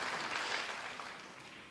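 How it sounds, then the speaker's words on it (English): A snooker crowd applauds in a soft, dense wash of clapping that slowly fades. "that's why the applause from the audience"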